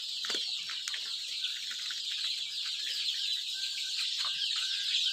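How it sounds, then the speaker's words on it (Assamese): Local free-ranging chickens on a rural Assamese homestead cluck and chatter close by, with repeated short calls over a quiet background and brief wing flaps, no speech. "এইবোৰ দেখিছেনে কিমান মুৰ্গী আছে।"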